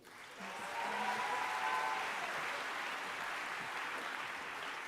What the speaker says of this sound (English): Can we have one more round of applause for our mayor, Daniela Levine-Cava?